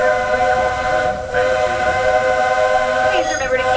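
Walt Disney World steam train sounding its whistle, a loud, steady multi-tone blast held through most of the moment with rail and crowd noise beneath.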